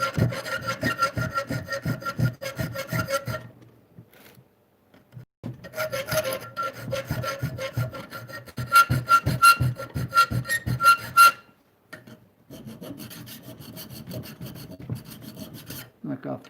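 Rasping file strokes sharpen a homemade knife in a blacksmithing shop, rhythmic scraping back and forth up close, in three bursts separated by short pauses, with no talking.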